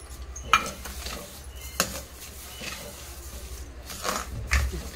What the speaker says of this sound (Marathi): आता आपल्याला त्याच्यामध्ये साखर टाकायची आहे।